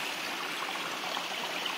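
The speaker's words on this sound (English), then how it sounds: "The creek, my happy place." Creek water flows steadily and close by in a continuous broadband rush and babble, with no voices over it.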